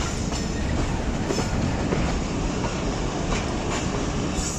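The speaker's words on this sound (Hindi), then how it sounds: "122 डाउन 80-51 की रहनुमाई में, 80-51 की क़यादत में शोरकोट जंक्शन रेलवे स्टेशन पर पहुंच रही है" The 122 Down Ravi Express pulls into Shorkot Junction station in Pakistan, giving a steady rumbling roar with rhythmic wheel clatter on the rails, close and continuous, with no speech.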